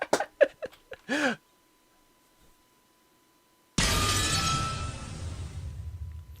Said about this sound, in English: There's a violent sound of glass breaking